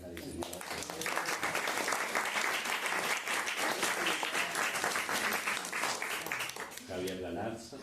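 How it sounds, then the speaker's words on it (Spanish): A book-launch audience applauds the book's designer with dense, sustained clapping that fills the room from start to finish, with a voice briefly heard near the end. "espero que le puedan dar un aplauso porque es la diseñadora"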